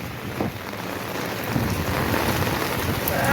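Heavy rain pours steadily in a village, a dense broadband hiss of drops on surfaces that builds slightly louder toward the end, with no voices.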